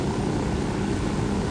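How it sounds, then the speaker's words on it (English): Steady whirring engine drone from an in-game helicopter in Ghost Recon Wildlands, loud and continuous with no break, filling the scene alone. "Raise the helicopter first."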